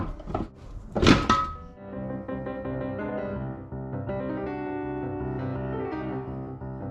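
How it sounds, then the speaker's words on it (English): Mitsubishi Evolution gearbox casing pulled apart: one sharp, loud thunk near the start, then a steady, faint tonal hum carrying on underneath to the end. "So hopefully now the gearbox should separate."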